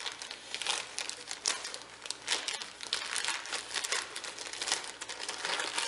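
Packaging around a new jersey is torn open up close, with continuous crinkling and crumpling broken by short ripping bursts for about six seconds and no talk.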